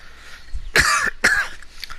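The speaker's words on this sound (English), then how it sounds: "Got the cough going on again." Two sharp coughs close together, the first longer and harsher, the second shorter, close-up with quiet background between.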